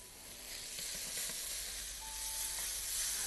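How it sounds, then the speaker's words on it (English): Dal cooking in a pan gives a faint, steady sizzling hiss with soft bubbling, continuous and fairly quiet throughout. "So you can hear the sizzling noise."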